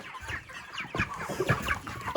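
Broiler chickens on a homestead cluck and squawk in a busy, overlapping flurry of short calls, close and fairly loud, with a sharper burst at the end.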